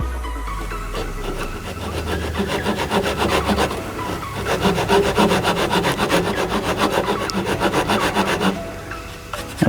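A hand saw cuts a wooden board in a woodworking project, with rhythmic back-and-forth rasping strokes that are close and clear, steady and unbroken by speech.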